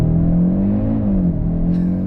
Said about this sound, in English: Let's test out the 0 to 100 in the Audi RS3.